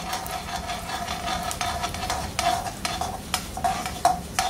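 Urad dal and dried red chillies fry in oil over tempered mustard seeds, producing a continuous close hiss and crackle with scattered sharp pops and light stirring.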